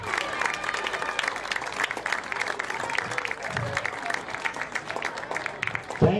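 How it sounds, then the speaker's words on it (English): Sustained applause from an audience honoring the 1987 Northern Valley Husky football team at a 2012 state recognition ceremony, steady dense clapping for about six seconds with a slight swell at the end. "Let's give the 87 team a round of applause"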